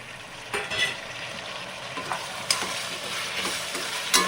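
Tomatoes and vegetables fry in a pan for ragi shavige, with a constant close sizzle broken by several sharp stirring scrapes and taps of the spoon; no talking.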